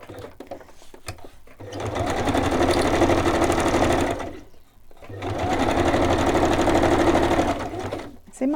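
A sewing machine stitches through paper in two sustained runs of steady, loud mechanical whirring, separated by a brief pause, with quieter handling noises before the first run.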